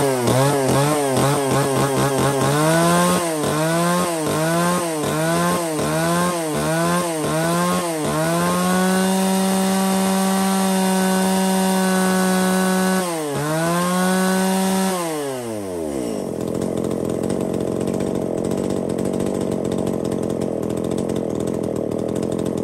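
A small Japanese-market used chainsaw engine starts with several sharp pulls, catches, and settles into a steady loud idle with a couple of revs, running alone and close by.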